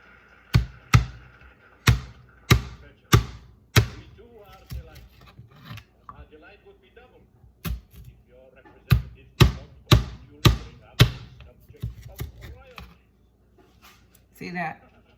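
A knife chops through potatoes on a cutting board in a home kitchen, landing a quick run of sharp, close knocks in steady bursts, with pauses between groups and a few softer scrapes.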